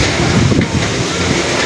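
Strong gusty wind after a typhoon roars across a small rural plot with banana plants, buffeting the microphone in a loud, continuous rumble with no speech.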